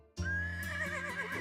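Horses in the Fate/Grand Order video game neigh in one long, loud, wavering whinny that starts suddenly and carries on without pause, with no voices over it.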